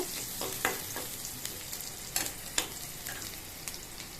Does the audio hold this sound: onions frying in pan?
yes